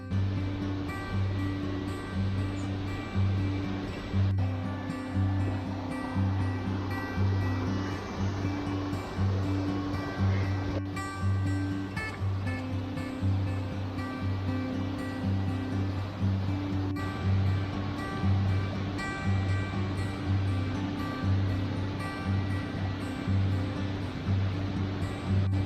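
Rushing water from the Aira Force waterfalls pours in a steady, dense roar that stays constant throughout, heard from nearby on a steep descending path with no one talking.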